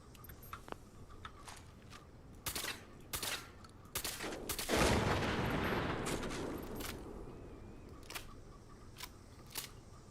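Video game gunfire, sharp scattered shots popping one by one at moderate distance, with a longer rushing burst of noise in the middle before the isolated shots resume.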